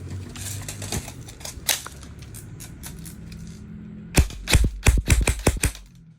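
A Delta D002HT AEG airsoft rifle is test fired, first a burst of sharp mechanical clicks, then after a pause a louder rapid string of close, snappy shots with a whirring gearbox, without speech.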